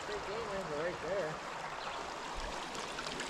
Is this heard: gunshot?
no